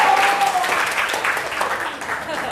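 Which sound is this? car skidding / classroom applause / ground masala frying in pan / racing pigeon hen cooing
classroom applause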